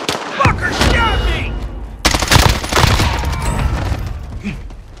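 Gunshots in a video game: loud bursts of rapid fire with a sharp volley midway, overlapped by a player's voice and game noise.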